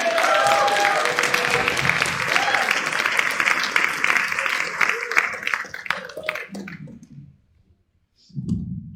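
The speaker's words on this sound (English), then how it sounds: "Give a round of applause for Bitsy Biron." Audience applause for comedian Bitsy Biron at a comedy showcase in the Bellows Falls Opera House, loud crowd clapping with whoops that fades out, followed by a brief pause and then a voice speaking.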